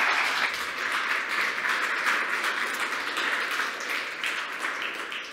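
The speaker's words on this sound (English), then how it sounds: "An applause." Audience applause at a city launch event in Tallinn, a dense, steady wash of many hands clapping that holds at an even level for several seconds without a break.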